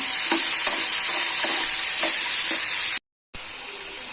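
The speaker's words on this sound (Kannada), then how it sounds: "ಚೆನ್ನಾಗಿ ಫ್ರೈ ಮಾಡಿ. ಹಸಿಮೆಣಸಿನಕಾಯಿ ಇದನ್ನ" Potatoes and green chillies frying in a pan make a steady bright sizzle with repeated stirring scrapes, briefly cutting out before the sizzling resumes.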